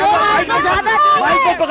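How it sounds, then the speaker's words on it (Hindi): A protest crowd at Shaheen Bagh keeps up loud, continuous chanting of slogans, with many voices close by merging into a dense babble. "साफ तौर पर यहाँ भीड़ जो है लगातार नारेबाजी कर रही है"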